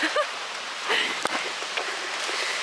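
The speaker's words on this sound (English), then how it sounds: "Here comes the rain." Steady rain pattering on surfaces at the start of a summer shower, a continuous close hiss with scattered droplet taps.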